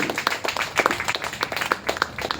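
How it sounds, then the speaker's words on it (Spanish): A church congregation claps in quick rhythmic bursts, each sharp clap distinct and close, keeping a lively beat throughout. "Un fuerte aplauso a Jesús"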